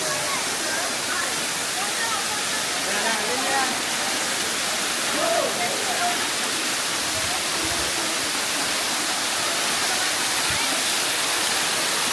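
Kanto Lampo waterfall on Bali pours in a dense, steady roar of falling water that fills the whole stretch, broad and unbroken, with faint voices barely surfacing beneath it.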